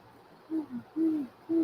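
Person imitating owl hoots with the voice, a few short low hooting calls in an uneven rhythm, close and fairly quiet, with no other talking.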